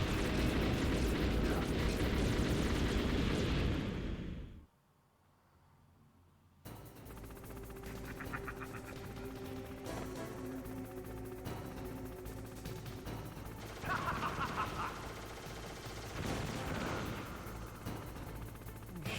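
Gunfire in the PS1 video game Metal Gear Solid: loud bursts of game shooting and impact blasts, a sudden drop to near silence for about two seconds, then scattered shots and effects resuming over game sounds.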